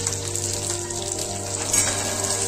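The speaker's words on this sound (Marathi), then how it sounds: "आपण आता ह्या मिरच्या भाजून घेणार आहोत" Green chillies fry in hot oil in a wok for a spicy green chilli thecha, with peanuts added in, giving a steady, close sizzling hiss with small crackles and a faint stir near the end.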